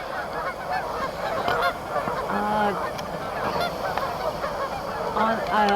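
Snow geese honk at a wilderness park, several calls scattered over a steady open-air background, moderately distant.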